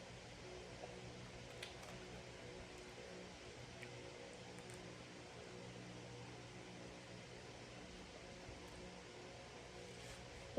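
Steady, faint whirring and broadband hum of an electric fan running in a room at home, continuous throughout without speech.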